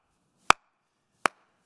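Two sharp single claps, a unified clap from a gathered audience at a church event, each a crisp isolated hit spaced under a second apart in a quiet room.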